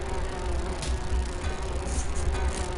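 Steady, dense buzzing of bees in the video game Grim Fandango, close and continuous, with a constant drone and no voices.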